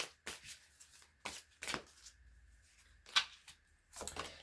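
Tarot cards being shuffled by hand in quick riffling bursts separated by short pauses, crisp papery flutters close and quiet, no talking.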